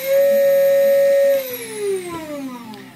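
An upgraded 3040 CNC spindle runs inside its enclosure with a steady high whine that holds, then winds down in pitch as it slows, with some background hum and no talk.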